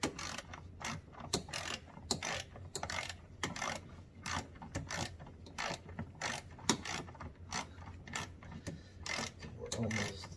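A hand ratchet wrench tightens brake booster nuts on a Ford Escape with rapid, close clicking in short repeated strokes and brief pauses, while someone talks now and then.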